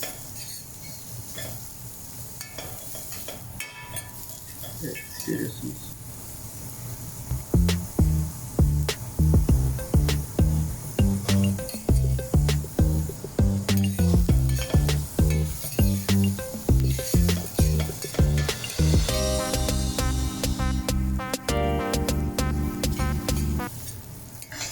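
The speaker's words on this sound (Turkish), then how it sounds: "Tavamız biraz ısınınca şimdi yağlarımızı ekleyeceğiz arkadaşlar. Şimdi erimeye başlayacak." Pieces of animal fat render in a hot pan with a steady hissing sizzle, later joined by a busy rhythm of scraping and clinking as the fat is stirred. A voice speaks briefly.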